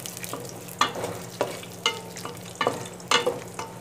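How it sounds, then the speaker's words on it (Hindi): Diced vegetables sizzle in a pan while being stirred for Chinese fried rice, with a spatula scraping and tapping against the pan in irregular strokes. "और इसको करते हैं हल्का सा फ्राई"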